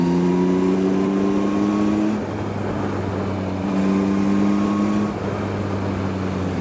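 A Yamaha MT-09 inline-three motorcycle pulls uphill on a highway with its throttle opened from around 70 km/h, giving a steady, loud engine drone with shifting harmonic tones, mixed with wind rush and no speech.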